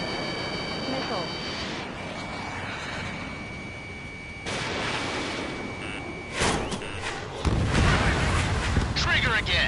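Missiles fire and explode in a PS4 video game, with a steady roar of engine and battle noise building to heavy booming blasts toward the end, while a radio-style voice talks over the noise.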